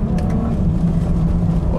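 Engine of a lowered car with bigger wheels, a steady low drone while driving with road rumble as it shifts into second gear; a voice talks over it.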